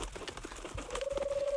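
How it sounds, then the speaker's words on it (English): A bird in the Mario Kart 8 and SportsFriends game session coos in a short run of soft, rhythmic pulses that grow steadier and louder toward the end, heard close and alone without talk. "Sound kind of like a bird. That is a bird!"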